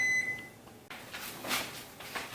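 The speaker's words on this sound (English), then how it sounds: "My timer is going off." A kitchen timer going off during canning of blood orange marmalade, one short, clear electronic beep at the start, followed by soft rustling and clinking.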